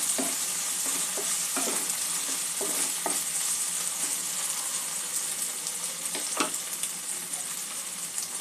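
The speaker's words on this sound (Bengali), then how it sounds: "গ্রেটেড আদা দিয়ে দেবো। একটু নাড়াচাড়া করে নেব।" Grated ginger is stirred in a hot pan with a steady hiss of frying and intermittent light scrapes and taps of the spoon, close and fairly soft.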